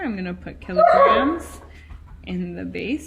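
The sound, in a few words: dog barking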